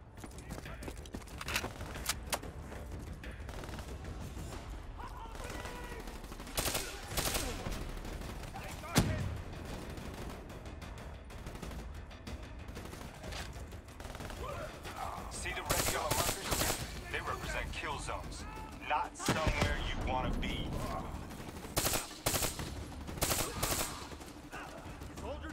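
Call of Duty Black Ops 3 gunfire rattles in repeated bursts and single shots throughout, some loud and sharp, mixed with in-game noise while a person talks over it.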